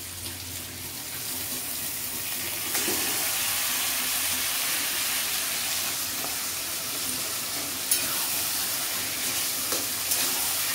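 Taro leaves are tipped into a hot pan and fry with a steady, rushing hiss, a broad continuous crackle that persists with a few small knocks, no talking.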